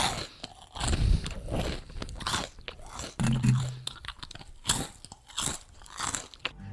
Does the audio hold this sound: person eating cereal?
yes